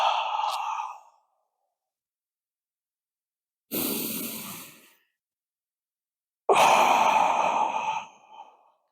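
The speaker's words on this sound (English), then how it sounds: "make sure to keep breathing like I am right now" Deep breathing during an outdoor meditation stretch: three slow, audible exhalations like sighs, separated by silent pauses, the last one longest and loudest, close to the microphone.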